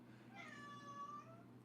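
A cat meows once at a door, a single drawn-out, rising and falling call lasting about a second, faint and distant over a steady low hum.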